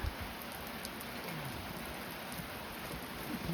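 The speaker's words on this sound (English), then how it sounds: "Just reached a shelter and the heavens opened." Heavy mountain rain hammers down on a hiking shelter in a dense, even hiss of countless drops, steady and close with no voices.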